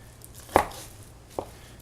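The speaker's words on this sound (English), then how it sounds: "my dicing and slicing and chopping skills are not the best in the world" A knife chops vegetables on a cutting board while sweet and sour sauce is made: two sharp, close chops about a second apart, with quiet between them and no talking.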